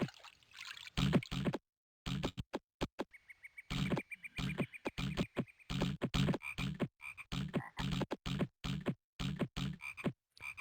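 Frogs croaking in a bayou level of the video game Zoombinis: rapid, choppy bursts of croaks in irregular clusters with short silent gaps, over faint trickling water.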